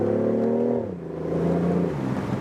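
BMW i8 Roadster's 1.5-liter turbocharged petrol engine revving up close, a steady droning tone that dips and then climbs again with no voices.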